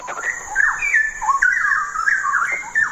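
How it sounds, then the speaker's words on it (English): A straw-headed bulbul sings a loud, bubbling run of rich, warbling notes that rise and fall in quick phrases, clear and close against a faint background hiss. "the bird is the straw-headed bulbul."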